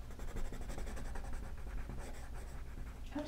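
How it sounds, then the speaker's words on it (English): A white pencil scratches steadily across tinted paper while drawing, a soft continuous rasp of close strokes with no voices. "One of the nice things about tinted paper is you can actually use a white pencil."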